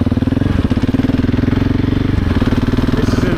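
A 700cc motorcycle engine in fourth gear on frozen tundra, a loud close throbbing drone with a rapid, even pulse, holding steady rather than climbing, no speech over it.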